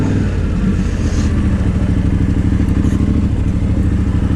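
A motorcycle rolls slowly through a muddy bog, its engine a steady low rumble with loud, continuous lugging pulses and occasional clattering thuds, close and without any talking.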